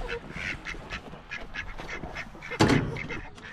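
A chicken cackles repeatedly in a rhythmic series of calls at moderate distance, with a louder burst near the end, against a farmyard background.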